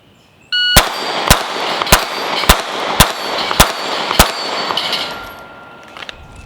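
A Sig P365 Gen 2 pistol with a 12-round magazine fires at a target. Seven sharp, loud, close reports come in quick, evenly spaced succession, and a faint ringing tail follows.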